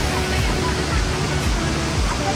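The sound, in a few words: waterfall, about 50 m high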